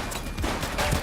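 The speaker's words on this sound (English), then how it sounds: "Shots fired!" Rapid, dense gunfire from the police video game The Precinct fills a brief moment, a continuous loud burst of overlapping shots.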